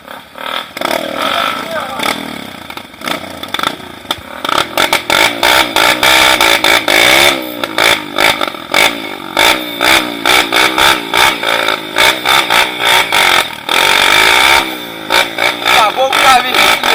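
Motorcycle engine revving and droning on a dirt trail near São Lourenço waterfalls, fairly close and loud with shifting pitch as it passes, mixed with clatter and people talking over it throughout.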